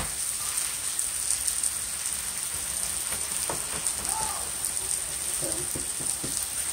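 Thin Steak-ums frying in a pan, a steady crackling sizzle like light rain with a bright high hiss, close and constant, while a voice speaks briefly and a few utensil clicks sound.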